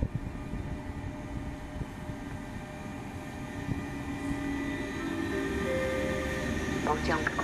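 A passenger train pulls into a station platform, its rumble and rolling noise building steadily, with a rising squeal and brake-like tones near the end; a platform announcement is spoken over it.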